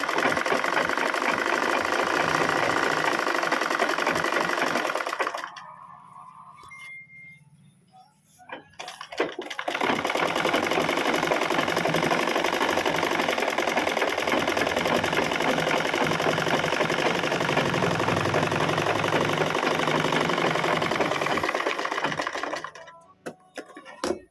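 A sewing machine stitching a blouse waistband gives a steady, close mechanical whirr, then stops for a few seconds and resumes running continuously before winding down at the end.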